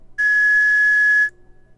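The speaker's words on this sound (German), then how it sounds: "wir haben eine Pfeife erhalten." A single bright, steady whistle is blown once in the video game Jazzpunk, sounding loud and clean for about a second before cutting off abruptly.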